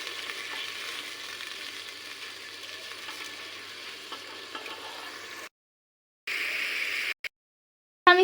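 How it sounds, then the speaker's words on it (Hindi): Ginger paste stirred into hot oil in a pan while making restaurant-style moong dal, giving a steady close sizzle and frying hiss with light stirring scrapes, broken by short silent gaps near the end. "अदरक का पेस्ट ऐड कर देंगे और इसे अब हम मिक्स कर देंगे।"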